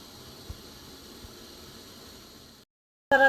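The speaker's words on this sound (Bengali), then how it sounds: "চিনি রসটা ফুটছে।" Sugar syrup with lemon leaves boiling in a pot on a gas stove, a steady soft bubbling hiss with a couple of faint pops, cutting off abruptly near the end.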